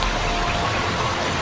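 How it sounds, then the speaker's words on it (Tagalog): Heavy rain pours down in a steady, dense broadband hiss that fills the whole short stretch evenly, with no voices over it. "Parang malakas yung ulan ngayon, tol."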